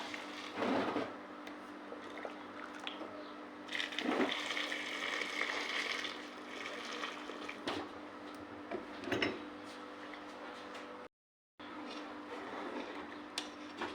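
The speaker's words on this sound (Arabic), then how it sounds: "عندي هذا مي حار مفورته، راح اخليه على الجدر" Hot boiled water poured into a cooking pot for tashreeb in a home kitchen, a continuous splashing, gurgling pour with a few knocks and clinks of the pot, close and moderately loud, briefly cut by a gap.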